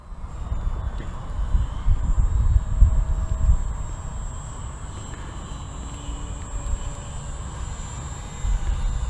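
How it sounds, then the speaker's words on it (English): A small HobbyZone Champ radio-controlled airplane flies at a distance, its faint, steady motor drone sitting low under broadband outdoor noise and a thin high insect-like whine, with no talk. "How is the plane behaving, Bora?"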